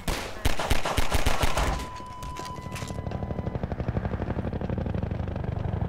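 Rapid automatic gunfire bursts loud and close in Half-Life 2, giving way to a steady chopping helicopter rotor throb that continues alone to the end.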